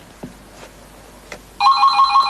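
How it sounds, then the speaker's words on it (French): An indoor telephone bursts into a loud continuous electronic ring after a few quiet knocks and clicks, close and alone with no voices. "Téléphone. Oui, téléphone. Ça ne rate pas, il sonne toujours quand on passe à table."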